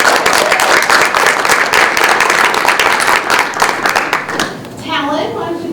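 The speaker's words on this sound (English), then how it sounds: "So maybe a round of applause just for these two guys." An audience gives two students a round of applause, with loud, dense clapping that thins toward the end as a voice begins speaking over it.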